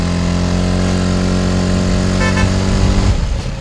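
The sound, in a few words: QJ ATX 250X motorcycle accelerating up a hill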